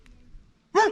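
A dog on a pier in County Donegal lets out a single sharp, close bark at the end, after near silence.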